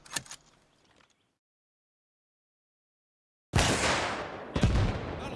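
Rocket launcher firing in the military game Arma Reforger: a short burst of noise that dies into silence, then a loud, close, broadband blast that sustains as a roar, with a second sharp impact about a second later.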